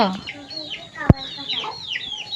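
A pet chicken clucks while eating, running to its feed, with a few close clucking calls and a sharp peck or tap near the middle.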